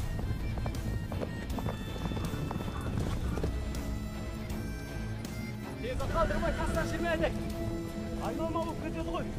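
Horses galloping, a busy stream of hoof clip-clops mixed into a dense, continuous film soundtrack of music and other effects.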